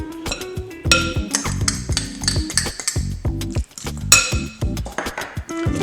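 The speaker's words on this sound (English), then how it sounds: "We're going to mix that up a little bit. Just kind of get the flavors and the seasoning mixed in there good." A utensil knocks and clinks against a bowl as salmon patty ingredients and seasoning are mixed, a run of close, uneven taps and scrapes with short pauses.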